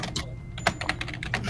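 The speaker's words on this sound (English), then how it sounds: "Yep, vigorous typing." Rapid, vigorous typing on a computer keyboard, a dense run of close, loud key clicks with a few sharper strikes standing out, no voices.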